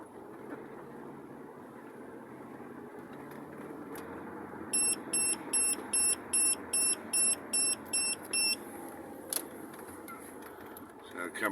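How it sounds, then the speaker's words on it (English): A vehicle's speed alarm beeps in a quick run of about ten short, high electronic tones over steady road and engine rumble. "that's the speed alarm going off that time"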